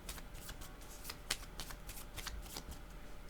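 Cards for a card reading are shuffled in a steady run of soft, rapid papery slaps and riffles, faint and close, with no talking.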